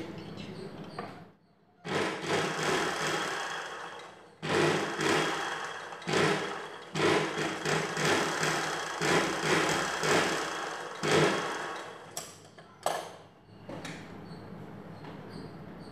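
Sewing machine stitching a katori blouse, whirring runs of rapid needle strokes in several bursts with short pauses between them, close, with a voice talking in the quieter gaps.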